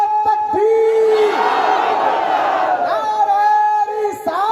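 A large crowd at a religious gathering roars back in unison after a preacher's slogan, a loud sustained collective shout with a voice chanting over it.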